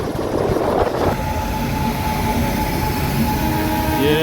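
The Bhubaneswar–Lokmanya Tilak Terminus train, bound for Ahmedabad, rumbles at a railway station with continuous wheel and carriage noise and a faint squeal, close and steady, with no talking.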